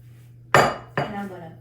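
Butterscotch cookie dough is mixed in a bowl, heard as two close, loud clanks of a utensil knocking against the bowl, each ringing out briefly.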